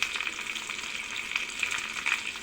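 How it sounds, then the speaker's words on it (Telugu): Garlic and pepper tempering, both ground pepper and whole peppercorns, sizzles and crackles in hot oil in a pan for a yogurt-based snake gourd chutney. It is a steady, close, continuous hiss with small pops and no talk. "అంతే అండి, మన పోపు రెడీ అయిపోయింది."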